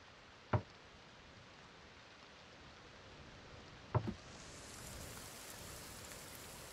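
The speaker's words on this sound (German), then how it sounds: "Ah, geil, es regnet wieder." Steady rain falls in the survival video game The Forest, a constant wash of hiss broken by a few sharp ticks and knocks, with no talking.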